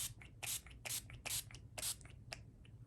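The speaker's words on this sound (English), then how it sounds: "So tonight I'm using the Urban Decay All Nighter Spray." Several short, airy bursts of Urban Decay All Nighter setting spray in an uneven rhythm, close by and moderately soft, with small handling sounds between them.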